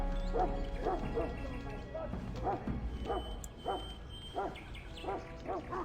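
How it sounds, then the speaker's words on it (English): Dog barking in Dragon Age: Origins, a hound loose in a castle, with repeated short barks and yips at moderate distance, mixed with in-game character voices speaking. "That hound should be in the kennels, not wandering the castle."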